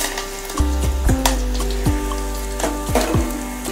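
Garlic, red chillies and curry leaves sizzle loudly in hot oil as a tempering, with a steady frying hiss broken by repeated sharp pops and spits.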